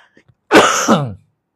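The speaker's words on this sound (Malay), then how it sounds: "mungkin saya agak kerap batuk ni" A man gives a single loud, close cough, one harsh rasping burst about seventy milliseconds long, heard alone after a brief quiet.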